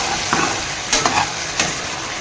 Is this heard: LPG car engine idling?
no